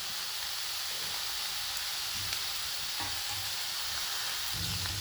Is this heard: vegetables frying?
yes